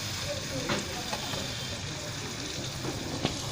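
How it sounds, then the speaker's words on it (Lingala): Hot oil sizzling in a pan, ready for frying cassava at a street food stall in Ndjili, a steady close hiss and crackle with a few faint knocks. "Namoni mafuta ebeli."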